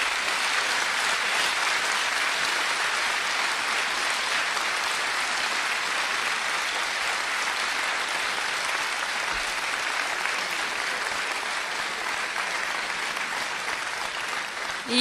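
Sustained audience applause fills a stand-up comedy show, a dense, steady wash of clapping from a large crowd lasting throughout without a break.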